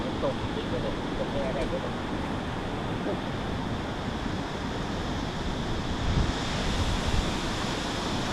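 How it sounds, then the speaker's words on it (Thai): Heavy water pours out below a dam at Lam Takhong, a steady, loud, broadband roar with no pause and wind buffeting the microphone. No one talks over it. "น้ำไหลแรงน่ากลัวมาก ๆครับ"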